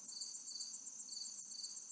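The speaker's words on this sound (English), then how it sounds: "You can hear all the crickets just chirping." Crickets chirp at night in a steady, fast pulsing trill, soft and continuous with no other sounds.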